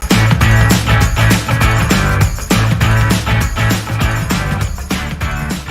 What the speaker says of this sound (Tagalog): Ganito nga pala yung tunog ng washing machine namin dahil may nalaglag na 10 piso sa loob